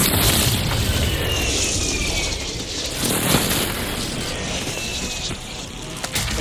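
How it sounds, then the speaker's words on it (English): A precision airstrike in an online military video game, with a sustained rumbling barrage of explosions and heavy booms that roll continuously for several seconds, dense and loud, with no voices. "Enemy precision airstrike."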